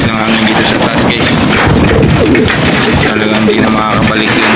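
Racing pigeons coo in a loft, close and loud, with repeated throaty cooing calls over steady rushing wind noise.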